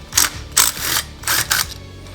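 A ratchet wrench loosens the bolts on the charging regulator of a Honda GXV530 engine, loud close clicking in several quick bursts with short gaps, no voice.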